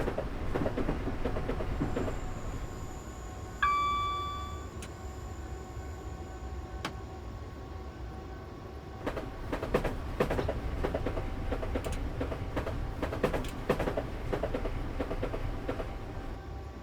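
A train runs on rails in Train Simulator 2013 at full throttle. A continuous low rumble carries a brief tonal horn-like chime early, then clickety-clack rail joints ticking steadily in the second half.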